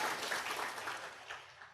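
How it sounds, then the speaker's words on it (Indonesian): Audience applause at a business seminar, a short burst of dense clapping from a crowd filling the room and fading slightly at the end. "Tepuk tangan yang ke Korea gitu."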